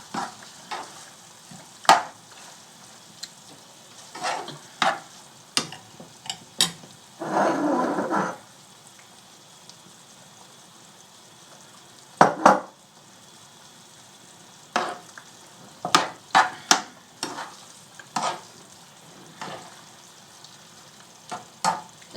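Ragu pasta sauce for goulash cooks in a pan with a low simmer, broken by scattered spoon clinks, scrapes and one short burst of louder sizzling.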